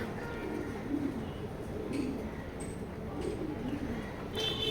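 Two raced racing pigeons at a loft give soft, low coos that recur every second or so under a steady background hiss, faint and fairly distant, with brief higher chirps near the end.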